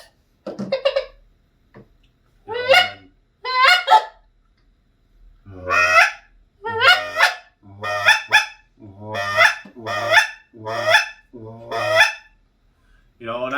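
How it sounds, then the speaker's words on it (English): Goose calls, handheld bird-call instruments, blown in a series of loud, close honks, a few short ones followed by steady repeated two-part honks with brief pauses between them, with no talking. "I tend to hum when I use these guys. So I hum with any of my bird calls"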